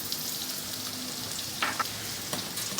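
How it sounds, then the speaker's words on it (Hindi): A paste of tomato, onion and raw mango sizzles and fries in oil in a kadhai, a steady close hiss with a few brief scraping stirs, no talking. "अलग कढ़ाई में हमने ऑयल डाला है, उसमें हम अपना ये पेस्ट डाल देंगे, टमाटो, प्याज और कच्चे आम का"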